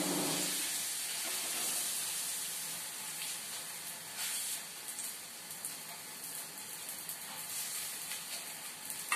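Flour batter hitting hot oil on a griddle, a steady close hiss and sizzle with faint crackles that run unbroken from start to end, no voices.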